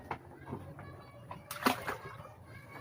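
Floodwater around a house in a flooded neighborhood gives a brief, close splash and slosh near the middle, set against low background noise.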